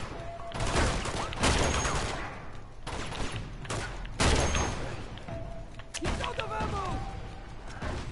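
Rapid bursts of gunfire and heavy impacts from a shootout in the video game Uncharted 2, loud and repeated in clustered volleys, with someone talking over the fighting.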